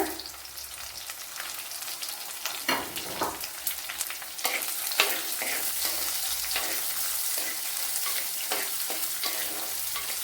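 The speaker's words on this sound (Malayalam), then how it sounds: "ഇനി കൊച്ചുള്ളി ഇട്ട് കൊടുക്കുക" Small onions (shallots) fry with garlic and ginger for a Kottayam-style fish curry, giving a steady close sizzle broken by scraping stir strokes and clatter.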